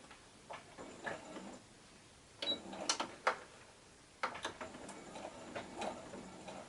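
A home sewing machine chain piecing scrappy white fabric patches, bursts of quick ticking, clattering stitching that start and stop, close and moderately loud over a quiet room.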